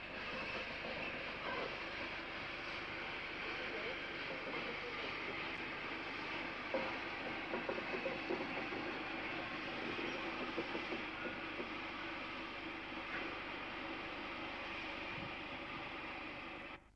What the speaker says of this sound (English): The C and H class locos depart